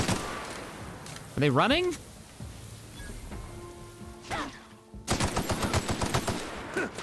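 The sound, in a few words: enemy energy weapons gunfire in the video game The Outer Worlds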